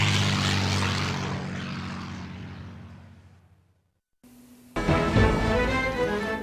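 A propeller airplane in a video game drones loudly and fades away over a few seconds, then after a brief silence a new burst of engine noise and game sound cuts in abruptly.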